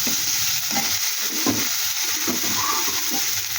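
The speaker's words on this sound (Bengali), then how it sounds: "আদা আর রসুন বাটা। এটাকে একটু ভেজে নিচ্ছি, কাঁচা গন্ধটা চলে যাবে।" Ginger and garlic paste sizzles steadily in a hot pan, a loud continuous frying hiss with soft stirring scrapes throughout.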